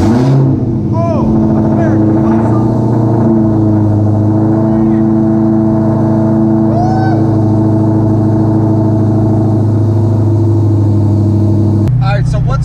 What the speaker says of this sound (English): Cold startup